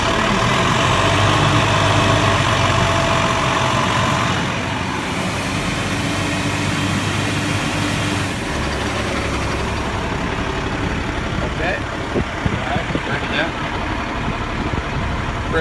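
A fire tanker truck's diesel engine, with its fire pump flowing water, runs loud and raised with the gas pedal pressed, then drops to a lower, rougher idle. Someone speaks over the engine noise.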